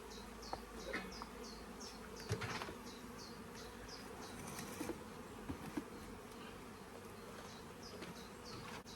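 Honey bees buzz around their hive on a UK bee farm, a faint, continuous drone with a few soft knocks and taps rising above it.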